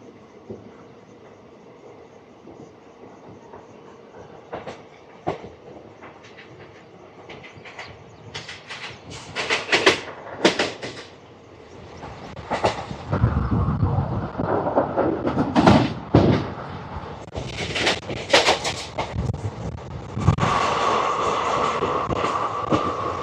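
Palnadu SF Express 12747 running between Guntur and Vikarabad, with rumbling wheels and rhythmic clickety-clack over rail joints, building in loudness with intermittent bursts of clatter and passing noise.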